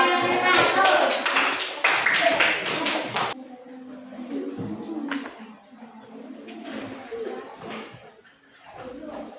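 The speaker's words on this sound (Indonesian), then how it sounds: "Tepuk tangan buat kelompok 4." A classroom of students clapping for a presenting group, a dense burst of quick rhythmic claps for a few seconds that stops abruptly, followed by quieter room noise and scattered voices.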